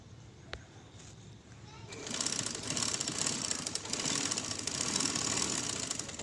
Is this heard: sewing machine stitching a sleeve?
yes